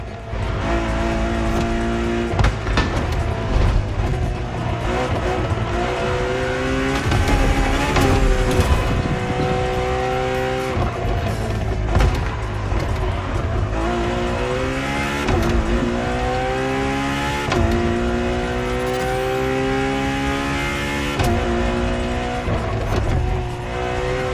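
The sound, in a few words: Ferrari car engine revving in video game The Crew Motorfest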